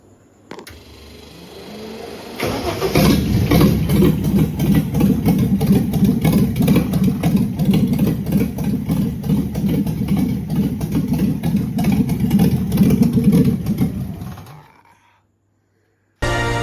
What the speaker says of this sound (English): We have an idling engine.